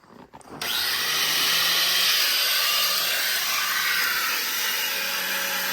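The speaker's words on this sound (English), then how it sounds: "Probably going to have to break some of the welds here." A power tool grinds steadily to break welds holding a hopper onto a sluice box, starting after a brief clatter and then running loud and continuous.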